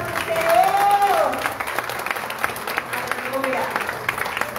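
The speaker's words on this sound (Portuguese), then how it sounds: "Aplauda bem forte o Senhor!" Congregation applauding loudly during an evangelical church service, a dense sustained wash of clapping over a musical tone, tapering slightly after the first second as voices and music continue underneath.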